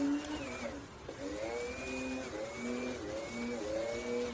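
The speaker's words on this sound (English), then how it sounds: "we're going to start cutting back a bit with a sander" A power sander runs continuously with a wavering whine while cutting back the finish on the lid of an 1880s colonial Australian cedar dovetailed trunk, fairly quiet and close.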